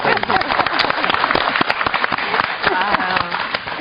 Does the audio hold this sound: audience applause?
yes